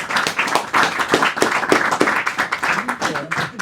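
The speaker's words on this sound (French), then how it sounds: "que vous pouvez applaudir" An audience claps steadily, a dense wash of applause with a voice speaking over it.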